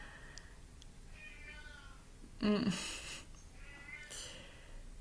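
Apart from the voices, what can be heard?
cat meowing in the background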